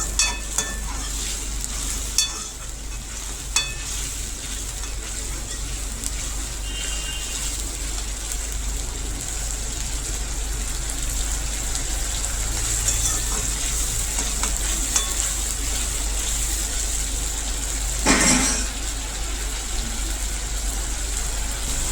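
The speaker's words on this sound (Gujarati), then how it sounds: "હવે તેમાં 1 ટમેટાની પેસ્ટ કરેલી છે તે નાખશો. તેને પણ આ રીતે સરસ એવી પાકવા દેશું." Tomato paste cooks in a pan with a steady, close sizzle, broken by a few sharp utensil taps and a louder stir near the end, with no talking.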